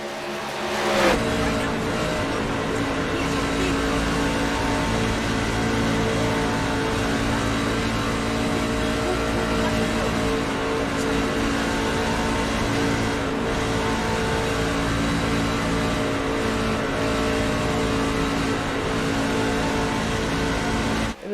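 Onboard view of the number 69 race truck in a racing game, its engine droning loud and steady for the whole stretch with constant harmonic whine, a brief surge near the start, no talk over it.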